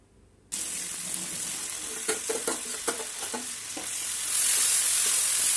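Spiced beef stirred in a hot pan, a spoon scraping through the meat over a continuous hiss of sizzling, close and steady, with a few sharper scraping strokes.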